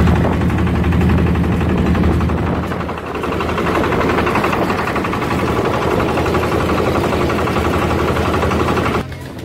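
A sightseeing tricycle's small engine runs steadily close by with a continuous rough drone and vibration for several seconds, with no speech.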